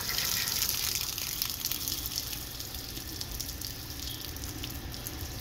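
Water gushes and squirts steadily from the drain plug of a 2020 Coleman 295QBS camper, a continuous close, hissing splash at low level with no talk.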